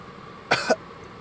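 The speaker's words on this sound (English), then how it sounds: "Let me clear my throat." A single short throat clearing, two quick rough bursts close to the microphone, in otherwise quiet surroundings.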